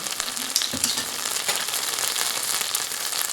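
A tablespoon of oil sizzles and crackles loudly in a pan during fish curry cooking, a continuous close frying hiss with a few small pops and no talking.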